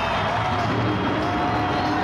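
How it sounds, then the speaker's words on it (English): Monster Jam fans in a Miami stadium applauding and cheering, a dense, continuous roar of crowd noise heard from a distance, steady and loud throughout. "The fans are very loud in their applause."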